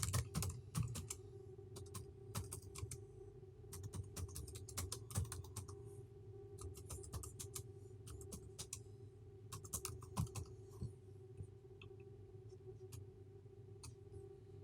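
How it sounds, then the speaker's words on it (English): Quiet typing on a computer keyboard while entering a value into a web form, with clusters of soft key clicks in bursts over a faint steady hum, then tapering off near the end. "Now here say I'm entering a value Ravi."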